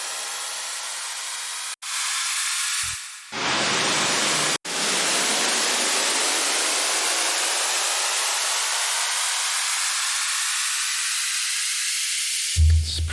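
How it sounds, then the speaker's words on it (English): A broad, hissing synth wash from Ableton's Operator drenched in a long, smeared convolution reverb tail using an experimental impulse response, with brief dropouts and a sudden cut near the end. "Maybe we'll add a convolution reverb and then use one of the experimental impulse"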